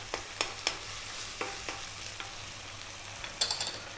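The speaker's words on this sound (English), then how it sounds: "we're now going to drop in that 1 tablespoon of garlic ginger paste" Garlic ginger paste sizzles in a pan for a lentil dish, a steady close frying hiss broken by sharp stirring clicks and scrapes, with a louder cluster of scraping near the end.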